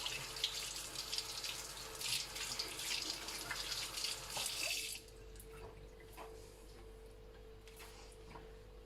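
Hot water gushing steadily from a tap into a sink while making a caustic soda soap, loud and close for about five seconds, then cut off, leaving a quieter room with faint drips and a low hum.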